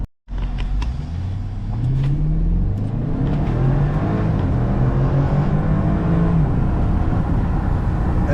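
A BMW car engine labors uphill close by, its loud growl climbing in pitch as it accelerates, easing, then rising again through the gears, heard alone with no talking.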